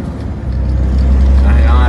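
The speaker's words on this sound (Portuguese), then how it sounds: "É difícil pegar o caminhão" A small truck's engine cranks and catches after a battery change, swelling into a loud, low, rumbling idle that builds and holds steady.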